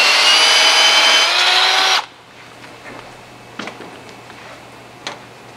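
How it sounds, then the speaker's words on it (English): An electric drill motor with a specially sized bit boring through a thread hole in a metal engine block, a loud steady high whine for two seconds that stops abruptly, followed by quiet clicks and handling noises. "I'll put this specially sized drill bit in my drill motor."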